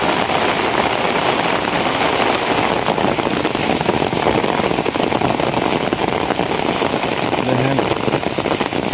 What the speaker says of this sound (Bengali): দেখেন চারিদিকে বৃষ্টির অবস্থা।